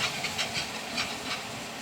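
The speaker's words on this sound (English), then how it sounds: "And it's going to steam." Homemade gravy in a pan with added water gives off a steady close hiss of steam, with a few soft bubbling surges rising and falling.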